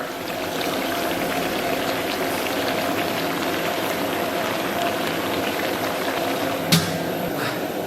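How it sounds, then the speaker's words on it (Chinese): Pork belly, potatoes, green beans and noodles braise in a covered pot, giving a steady close bubbling and simmering hiss that runs evenly throughout, with one brief clink near the end. "咱们给它焖上15分钟。 先拿大火给它顶一下这个面"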